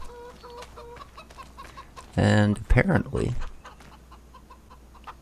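Chickens clucking in the yard in the video game Farming Simulator 25. Soft scattered clucks are heard at first, then a loud close burst of clucking and squawks mid-clip. Someone speaks briefly over it.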